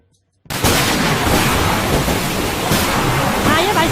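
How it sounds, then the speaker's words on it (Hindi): Heavy rain pouring down in a loud, dense, unbroken wash, starting abruptly after a moment of near silence and continuing steadily. "बारिश बहुत तेज हो रहा है।"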